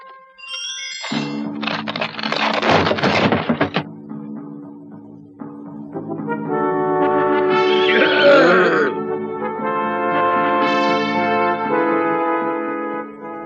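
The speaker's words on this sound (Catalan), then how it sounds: "Els 9 barons coneixen la crida d'Utger Cataló i corren amatents a galop dels seus cavalls" Horses neigh in a period drama about the nine barons of Catalonia: a loud, rough outburst early on, then a long, wavering whinny over a sustained musical backdrop.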